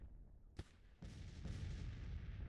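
Artillery fire in the video game Grand Tactician: The Civil War during the Battle of Louisville, with a sharp boom followed by a second blast rolling into a sustained, rumbling battle din.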